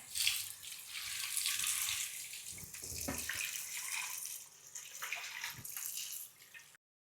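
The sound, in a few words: washing grains in water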